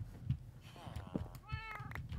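A Minecraft cat gives a few short meows over low game noise, with people talking in the background.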